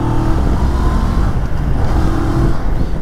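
A 2023 CFMOTO 650 NK roadster motorcycle pulls away, its engine a loud, close, continuous rumble that rises and falls slightly with throttle over a few seconds.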